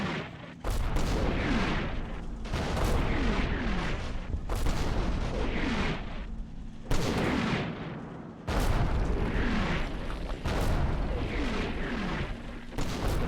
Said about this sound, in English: Now here comes that small artillery I ordered in last time